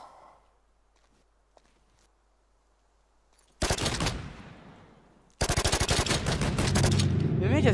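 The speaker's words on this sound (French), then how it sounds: "c'est lui qui me tire dessus" Loud automatic gunfire from a PvP shooter, Shattered Skies, erupts in two long rapid bursts of close, sharp shots after a quiet stretch with faint footsteps and small clicks.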